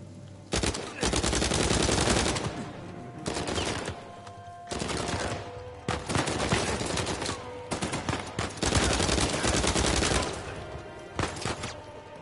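Gunfire in the video game Uncharted 4: A Thief's End, sustained bursts of automatic fire that start and stop repeatedly, loud and close, with a few brief gaps between volleys.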